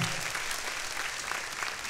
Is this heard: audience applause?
yes